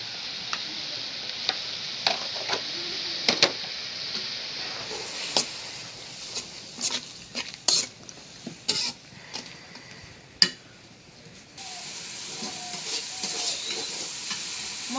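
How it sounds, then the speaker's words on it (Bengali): Ground turmeric, chili, coriander and cumin sautéed in a pan for a Bengali vegetable dish, a soft steady sizzle broken by sharp scraping stirs and spoon clacks against the pan. "মশলা কষাই নিলাম"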